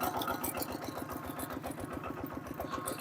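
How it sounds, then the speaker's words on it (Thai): A farm tractor engine chugs steadily in rural Laos, a fast even throb that is close and continuous, with no voices. "กำลังขับรถไถ"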